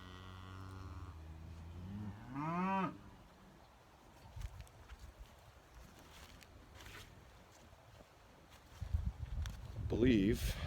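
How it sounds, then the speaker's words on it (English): Beef cattle on a farm, one of five newly added cows, give a couple of low, drawn-out moos with rising harmonics, one early and one near the end, amid outdoor ambience and a voice talking. "one of the new 5 cows that I put on the farm here about a week ago"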